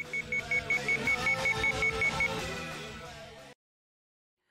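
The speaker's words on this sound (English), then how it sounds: "Ah, the alarm is so loud." An alarm in the Sweet Fuse: At Your Side video game beeps in a rapid, even pulse over a tense music bed, loud and continuous for about two seconds before the music fades and cuts to silence.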